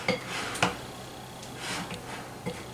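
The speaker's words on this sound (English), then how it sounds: "I'm just going to come in here and toss this chicken around." A few sharp clinks of a spoon against a bowl amid soft wet stirring as chicken pieces are tossed in batter, close and fairly quiet, with no talking.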